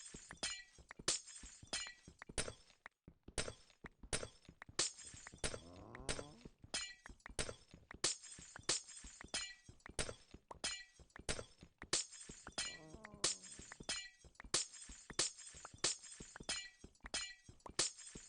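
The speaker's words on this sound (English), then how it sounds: "it still is annoying though that you can't insta-mine glass" Glass blocks being broken in a block-building video game, a fast, steady run of sharp shattering cracks and clinks that keeps going for the whole stretch with no talking.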